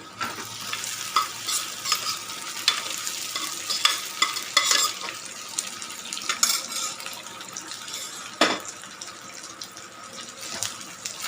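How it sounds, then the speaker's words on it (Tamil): Boiled mutton sizzles and fries in a pan for mutton pickle, with steady crackling, hissing oil and occasional stirring scrapes, moderately loud and close with no talking. "மட்டன் நல்லா ரோஸ்ட் ஆகிற வரைக்கும் அதோட கலர் சேஞ்ச் ஆகிற வரைக்கும் நம்ம இதை நல்லா வறுக்கணும்"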